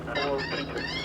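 A recorded rook distress call plays from an airport bird-scaring device, a dense, raspy, harmonic squawking that fills the whole second with a steady hum beneath it.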